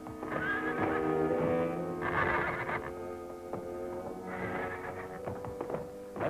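A crazed horse whinnies repeatedly in high, shrill bursts, with hoof clops and thumps scattered between the calls; the horse sounds fairly close and loud, without talk.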